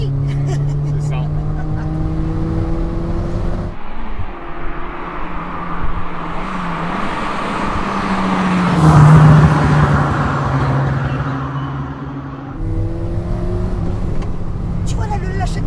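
A 1980s Volkswagen Golf GTI MK1 with a 1.8-litre engine drives along, its engine hum dropping as the throttle is lifted, while people talk over the cabin noise.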